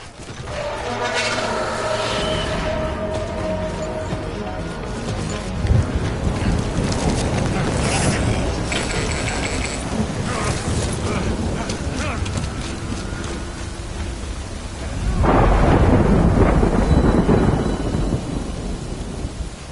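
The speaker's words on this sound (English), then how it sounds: "Good thing it was raining." Rain and a thunderstorm in the video game Death Stranding: steady rainfall under repeated rolling thunder, with a heavy low crash near the start and another swelling rumble toward the end, while a voice speaks over it.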